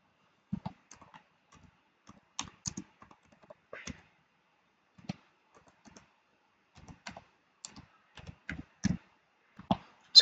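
Intermittent typing on a computer keyboard while writing a product description, with scattered clusters of close, crisp key clicks and short pauses between bursts, no voices.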